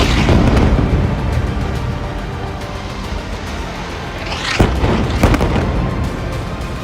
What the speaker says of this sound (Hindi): इजरायली सेना का हवाई हमला, मारा गया कमांडर हकाम मोहम्मद ईसा।